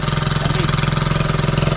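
A loud engine runs steadily, its rapid even pulsing throb droning on alone with no talk.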